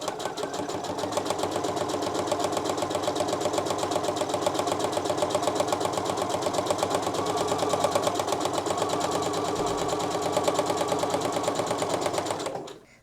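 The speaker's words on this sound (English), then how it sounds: "I am just going to go through those and sew those 2 together" Sewing machine chain piecing quilt fabric pieces with a quarter-inch seam, a fast steady mechanical rattle running close and continuous for about twelve seconds before stopping abruptly.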